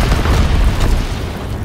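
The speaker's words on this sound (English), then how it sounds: "Incendiary mission commenced." A loud, low rumbling blast from an incendiary bomber strike in a video game, a sustained deep boom filling the short moment without a break.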